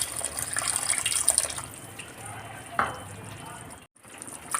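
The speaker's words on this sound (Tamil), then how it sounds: "இப்போ கரைச்சி வச்ச புளி தண்ணி வந்து விட்டுறலாம்." Tamarind water poured into sizzling masala in a pan while cooking medicinal leaf rasam, giving a close, loud hiss and frying crackle with a watery pour that softens toward the end.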